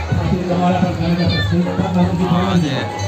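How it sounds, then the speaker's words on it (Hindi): A dense crowd at the Laxmi Narayan temple fair in Kimoli, with constant close hubbub of many overlapping voices and chatter, a few children's shouts rising from the babble. "देखिए किस तरीके से भीड़ लगी हुई है"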